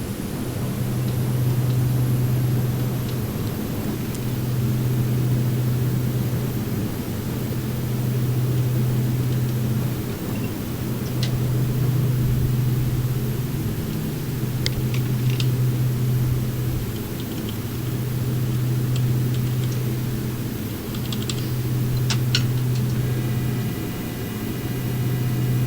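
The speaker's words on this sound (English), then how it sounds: "they've incorporated a nice shaking effect into the aircraft and some nice ground bump sounds as well" Cessna 441 in the P3D flight simulator rolling down the runway, a steady engine drone with a periodic low rumbling pulse and scattered faint clicks and knocks from simulated ground bumps, continuous and fairly loud with no talk.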